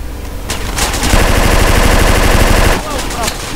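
Sustained automatic gunfire in GTA San Andreas during a gang shootout, a loud rapid burst of shots firing in a steady stream for about two seconds, with sparser shots before and after.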